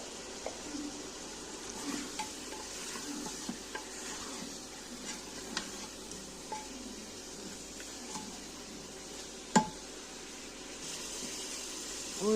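Mutton frying with spices in a pot in a Kashmiri-style home kitchen, a steady close sizzle with faint stirring scrapes and a sharp clink near the end.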